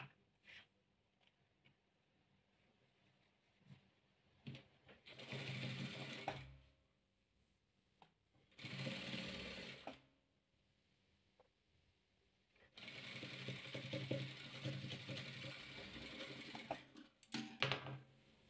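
Sewing machine stitching rows of a patchwork quilt together, running in three distinct bursts of steady mechanical whirring separated by quiet pauses with small clicks and handling sounds.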